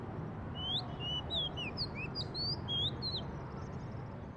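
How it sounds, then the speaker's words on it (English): Songbirds sing in clear, high, quick chirping phrases repeated over a few seconds, heard above a steady low background rumble. "Let's take the example of songbirds singing."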